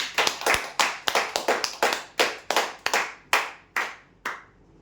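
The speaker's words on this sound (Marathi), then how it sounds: "यांच्यासाठी जोरदार टाळ्या" Applause for a prize winner at a lucky-draw event, a small group clapping in scattered bursts that fade out, close and clear with no talk over it.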